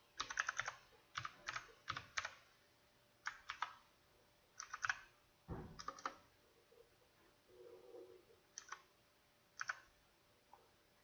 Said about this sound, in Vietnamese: tại vì cái bàn phím mới nên gõ nó chưa có quen tay lắm